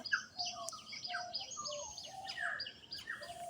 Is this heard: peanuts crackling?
no